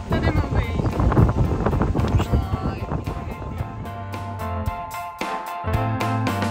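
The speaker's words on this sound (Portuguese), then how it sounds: "Olha o vento." Strong wind buffets the microphone at Depot Beach near Batemans Bay, New South Wales, a loud, continuous roaring gust with rumbling low-end bursts throughout and a voice speaking underneath.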